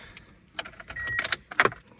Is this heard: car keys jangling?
yes